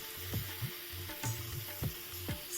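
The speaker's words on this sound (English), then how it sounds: "Stir gently and let it simmer uncovered for a few minutes" Chettinad chicken curry simmering uncovered in a pan, a soft bubbling sizzle punctuated by several gentle, regular stirring knocks and pops.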